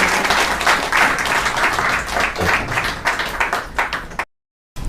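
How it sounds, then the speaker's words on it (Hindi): Dense audience applause welcoming someone speaker at a Brahma Kumaris spiritual gathering, many hands clapping steadily and fairly loud for about four seconds, then cutting off abruptly into silence. "आप सब तालियों के साथ उनका स्वागत"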